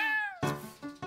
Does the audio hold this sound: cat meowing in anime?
yes